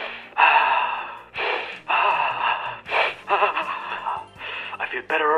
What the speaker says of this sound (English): Speed breathing.